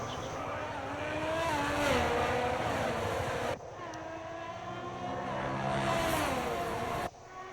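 Race cars pull away at the start of a race with Carlos Sainz's Ferrari leading and Lewis Hamilton second: loud, close engine notes climb and drop repeatedly through the gears, with a brief cut midway and faint commentary underneath.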